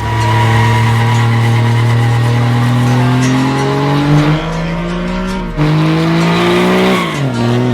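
Drift trucks slide with loud, sustained tire squeal over a droning, revving engine, the pitch climbing steadily, dipping sharply near the end and then rising again, close and continuous throughout.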